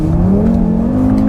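An Audi RS3 engine pulls hard under acceleration, a loud, steady, rising drone from inside the car with the pitch climbing smoothly throughout.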